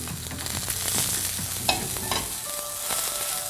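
A pork loin steak fries in a hot pan, a close, steady sizzle with light crackling and a brief sharp spike midway, no voices.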